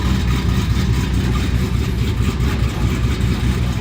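A 1,000-horsepower all-aluminum factory engine idles loud and lumpy in a car with an unfinished exhaust, a deep, rough burble, steady throughout with no voices.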